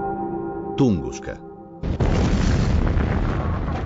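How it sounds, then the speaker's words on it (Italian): A deep, rumbling explosion effect evoking the 1908 Tunguska blast near the Podkamennaya Tunguska river, breaking in suddenly after a tonal musical passage and rolling on loud and sustained to the end. "una devastante esplosione nelle vicinanze del fiume Podkamennaya Tunguska abbatte 60 milioni di alberi"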